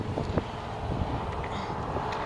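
Wind buffets the microphone beside a road, a steady rough roar with low gusty rumble and no speech.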